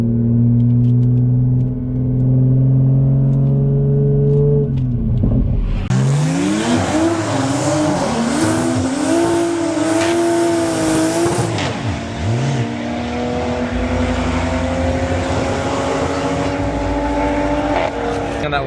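A 2020 Toyota Supra roars down a drag strip, engine climbing hard in pitch through rapid upshifts, loud and close, then settling into a sustained high-revving blare as it speeds away.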